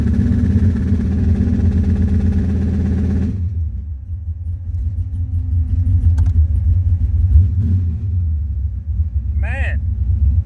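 A drag car engine held on its launch limiter with the transmission brake engaged, a loud, dense, buzzing roar for about three seconds that then cuts off abruptly, leaving low idle rumble and background noise.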